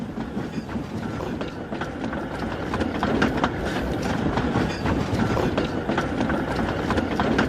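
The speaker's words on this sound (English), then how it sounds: "It's just a goods train." A goods train rolls steadily past, with continuous rumbling and rhythmic clickety-clack of wagon wheels over the rail joints, loud and close throughout.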